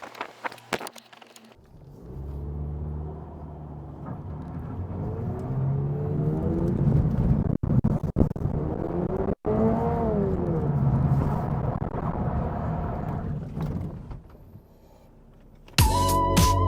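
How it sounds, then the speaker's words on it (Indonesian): A Subaru BRZ sports car driven on the road, its engine droning steadily with rising and falling pitch as it accelerates, close and continuous, with a few brief clicks and gaps and a sharp noise at the very end. "Oke, sekarang waktunya nyetir si BRZ nih."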